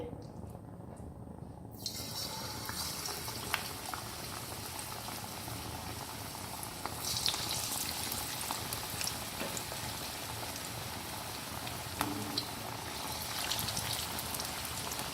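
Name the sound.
frying besan-battered fish in hot oil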